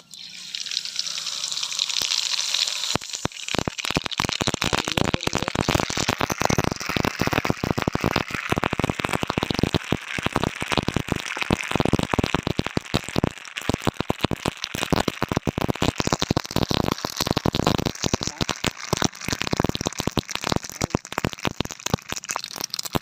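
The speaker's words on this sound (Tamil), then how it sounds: "கடுகை பொரிச்சு எடுத்துக்கலாம்." Mustard seeds popping and spluttering in hot oil in a pan while tempering for Madurai-style temple tamarind rice (puliyodharai), a dense, continuous crackle that stays loud and close throughout after a brief quieter start.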